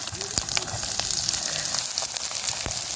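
Peppercorns, cumin, fenugreek and onion frying in hot oil for a whole brinjal gravy, a steady close sizzle and crackle with scattered sharp pops throughout, no voice.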